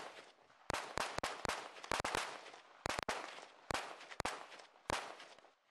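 Gunshots from border guard shooting practice on the Ukraine–Belarus border in Volyn, about a dozen loud, sharp reports fired singly and in quick pairs at an irregular pace, each with a short echoing decay.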